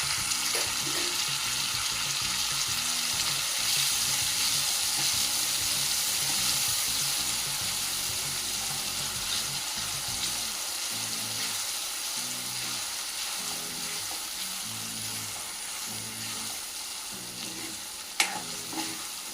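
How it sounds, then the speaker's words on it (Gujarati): Finely chopped onions sautéing with spices in a pan, a continuous close sizzle with irregular stirring scrapes over about twenty seconds and a sharp knock near the end, no voices. "હવે તેમાં બે ડુંગળી કાપીને ઝીણી સમારી લીધી છે તે નાખીશું અને ડુંગળીને બરાબર મસાલા સાથે સાંતળી લઈશું"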